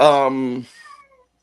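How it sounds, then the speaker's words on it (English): A single loud, close cat meow, drawn out and tonal, that trails off into a faint fading tail within about a second. "Did I just hear a cat?"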